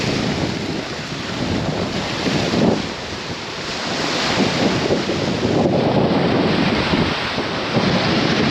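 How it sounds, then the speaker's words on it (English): Strong wind buffets the microphone over a choppy bay in Saskatchewan, a constant loud roar with waves churning beneath and no talking. "you got to get across this bay here, which is quite windy and quite wavy"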